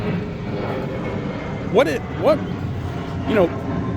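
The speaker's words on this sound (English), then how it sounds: "we got a plane flying over" An airplane flying over makes a steady engine drone outdoors beside a 1962 Corvette, heard at a moderate distance under ongoing conversation, with several short vocal bursts over the top.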